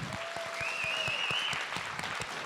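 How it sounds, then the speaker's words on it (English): An audience at a talk about a music-based addiction recovery program breaks into steady clapping, a dense, even wash of applause heard at moderate distance. "Can we cheer on that?"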